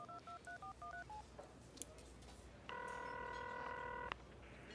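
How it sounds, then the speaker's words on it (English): A telephone keypad is dialed with about eight quick, evenly spaced touch-tone beeps, followed by a steady held tone lasting over a second, in a sitcom scene. "why don't I call Chad?"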